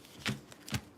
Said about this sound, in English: I can't shuffle these cards to save my life.